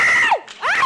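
A crowd at an event screams on cue: shrill, sweeping shrieks that rise and fall in two loud bursts, split by a brief dip in the middle.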